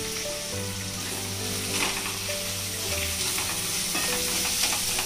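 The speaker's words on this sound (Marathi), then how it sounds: "आमचा कांदा इकडे फ्राय होते" Onion frying to golden in a pan for Malvani chicken sukka, a loud, steady close sizzle with stirring and faint background music.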